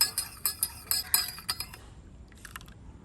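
Metal spoon clinking against a glass while filter coffee and milk are stirred to a froth, a rapid series of close bright taps that fade out, followed by a softer brief rattle.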